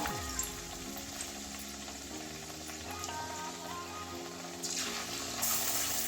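Gram-flour battered potato slices dropped into hot oil, a continuous bubbling sizzle that swells briefly as more slices go in, close and steady.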